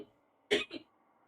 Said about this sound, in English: if you hear coughing